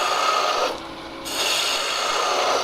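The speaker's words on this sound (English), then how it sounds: "The bowl gouge gets rid of it very fast." Bowl gouge cutting a spinning top on a woodturning lathe, a steady scraping, rasping hiss with a brief softer dip partway through, close and continuous with no talk.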